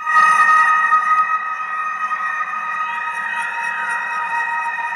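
Shimmering, sustained electric guitar tones swell and drift with slow pitch glides, forming a washy ambient drone that fades slightly over time.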